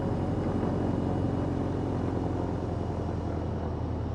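Steady droning engine of a Piper PA-28 Arrow III taxiing in a flight simulator, a constant low hum at even volume with no talk over it.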